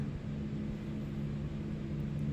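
Steady low hum and whine of an iniBuilds A340-300 airliner's four jet engines running in a flight simulator, constant and even with no talk.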